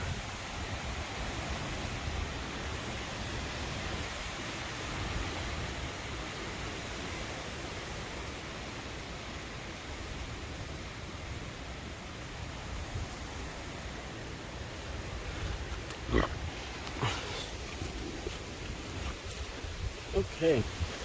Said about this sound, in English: oh, you can hear that wind, folks.